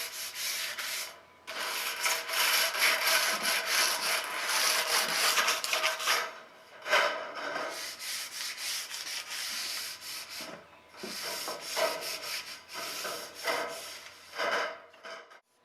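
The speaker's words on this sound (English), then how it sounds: "I'm just going to rough it up a little bit with a little sandpaper." Sandpaper rubs back and forth over a metal roof rain diverter in quick strokes broken by short pauses, close and fairly quiet, with no talk.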